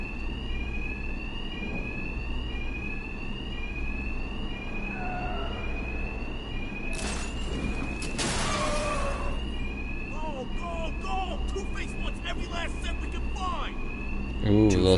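An alarm wails in Batman Arkham Knight, repeating steady rising tones over low game rumble, with bursts of other effects and clatter midway.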